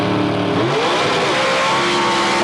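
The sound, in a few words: drag racing cars launching off the line, Mercury and Oldsmobile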